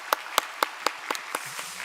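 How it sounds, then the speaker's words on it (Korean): A few people in a church congregation clap to welcome new members, about seven sparse, distinct claps fading out over under two seconds. "우리 박수로 환영하겠습니다."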